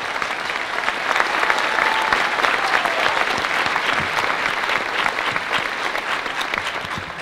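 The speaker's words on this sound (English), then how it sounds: "I'd like to give some applause to the Lincoln Center staff for being here tonight" An audience at a live holiday concert at the Lincoln Center breaks into steady, sustained applause, a full dense wash of clapping that holds throughout with only slight thinning toward the end.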